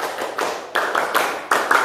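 A class of students does the Pramuka scout clap, a patterned group clapping routine in three quick bursts of rhythmic hand claps and taps, close and fairly loud, with no talking.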